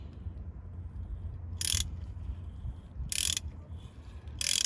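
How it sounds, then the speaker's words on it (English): A ratcheting tap handle from a Gear Wrench 141-piece tap and die set clicks in three short, bright bursts spaced about a second and a half apart, close and clear over a low background rumble. "this ratcheting handle is nice"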